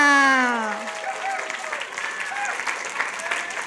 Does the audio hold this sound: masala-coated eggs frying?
no